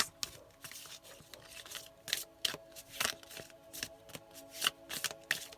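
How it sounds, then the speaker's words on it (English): Tarot cards being shuffled by hand, a quick irregular series of soft papery riffles and slaps, close and fairly quiet with no talking. "Let's get a bit more cards to clarify more this reading. So give me 3 more cards."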